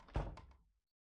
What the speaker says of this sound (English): The door closed behind her, and I heaved a sigh of relief.